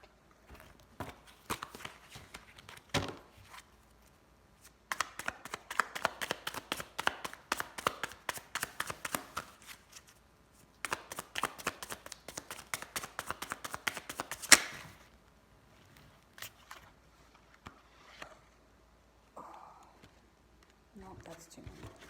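A deck of tarot cards is shuffled and handled, with several cards spilling out: fast bursts of crisp riffling and tapping clatter in clusters, separated by quieter pauses, close and fairly soft, with occasional talk.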